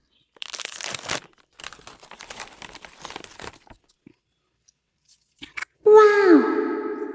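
A makeup parcel being unpacked: bursts of crinkling and tearing packaging separated by quiet gaps, followed by a voice speaking up close.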